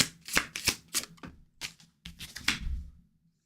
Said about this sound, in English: Shuffle real good, Mary